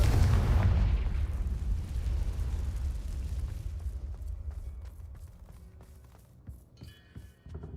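The Confringo fire spell in the game Hogwarts Legacy erupts in a loud, close boom at the very start. Its deep rumble slowly fades over several seconds, leaving scattered light clicks and game effects.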